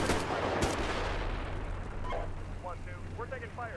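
Enemy fire in the tank simulator Steel Beasts Pro PE, a muffled rumble of gunfire and impacts under a low engine drone, with faint chirping radio-like tones toward the end.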